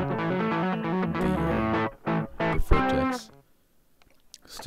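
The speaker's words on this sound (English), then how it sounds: "that's me putting a Boss Super Overdrive stock right into" Steel-string guitar run through a Boss Super Overdrive pedal into a VHT Special 6 amp, playing loud, gritty chords and short riffs. The notes cut off after about three seconds and leave near silence.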